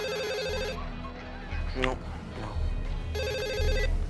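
A telephone bell rings in two electronic bursts in a home, the ring sounding near and clear. A voice speaks briefly and low sounds fill the gap between the rings.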